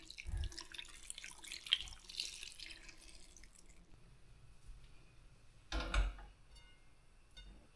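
Water poured into a cooking pot of Batak arsik fish with tomato and Batak spring onion, a soft splashing trickle with a clearer splash and clunk near the end, fairly faint.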